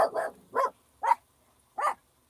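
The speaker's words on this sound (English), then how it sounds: "Hold on, let my dog stop talking." A dog barks five times in quick, close succession, the first two running together and the rest spaced by short silent gaps, with no one talking.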